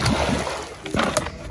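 Water is thrown onto a person, splashing and sloshing in several bursts close by, with voices heard in the background.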